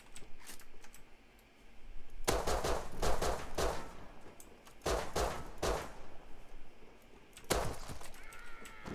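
Gunfire from the video game Rust rings out in short bursts of sharp shots, separated by quieter pauses, with clicking keyboard-like taps between the volleys.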